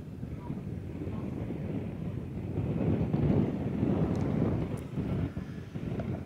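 Wind blowing across a hilltop viewpoint on a cool, hazy day, a steady low rumble buffeting the microphone that swells louder midway and then eases, with no voices.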